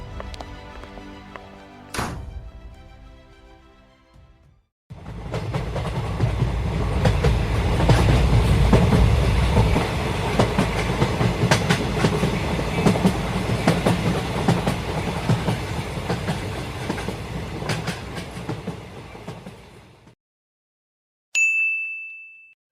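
Train at a station, a long rumbling roll with clickety-clack of wagons passing close and loud, preceded by quieter ambience and a single ding, ending with a brief bright tone.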